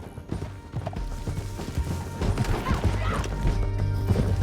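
Horse hooves gallop in Red Dead Redemption 2, a steady rolling clatter under a dense mix of game noise, wind and rumble, growing louder toward the end with a brief whinny-like tone mid-way.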